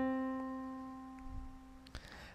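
A single piano C key struck once, a clear sustained tone with even overtones that slowly fades, ending with a faint click near the finish.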